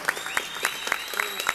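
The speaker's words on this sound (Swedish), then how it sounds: "Stor applåd för Albert." A short stretch of scattered audience clapping at the Mr & Miss Sweden 2017 final, with individual claps spaced fairly evenly, moderately loud and close.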